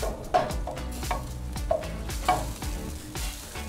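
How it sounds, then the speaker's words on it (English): Macaroni stirred in a pot for steak cheddar mac and cheese, a spoon knocking and scraping the pot in a steady rhythm over a constant bubbling sizzle, close by, no talk. "Little noodle stir."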